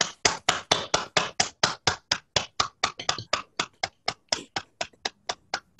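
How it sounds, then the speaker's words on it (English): A single person claps steadily and loudly, close to the microphone, after unmuting at an online poetry event; about two dozen evenly spaced claps with no voices. "we can all give John and Sophia the audible round of applause that they so very richly deserve"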